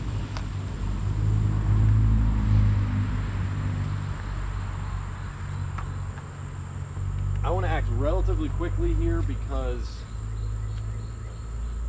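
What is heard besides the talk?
honey bees buzzing at hive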